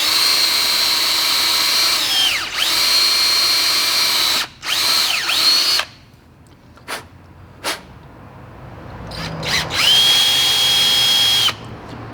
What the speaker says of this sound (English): We'll just drill a small hole in the gas cap lid.